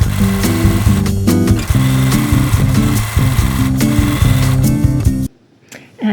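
A domestic sewing machine runs a long basting stitch across a dress panel, a steady mechanical whir with rapid needle clatter, loud and close for about five seconds before stopping abruptly.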